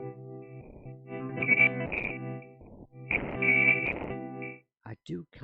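A guitar sample slowed down in the SampleWiz 2 app, its stretched, pitched notes sounding in warped sustained bursts separated by brief gaps, with a few short fragmentary sounds at the end.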